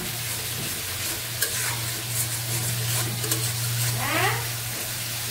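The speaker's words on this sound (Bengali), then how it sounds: "মশলা কষাই নিচ্ছি" Spice paste for pangas fish being stirred and fried in a pan, a close continuous sizzle under a low hum, with intermittent scraping strokes of the spoon against the pan.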